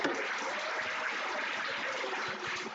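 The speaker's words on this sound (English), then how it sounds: "another round of applause" Sustained crowd applause at a dinner-dance event, dense steady clapping from many hands filling the room for about three seconds without a break.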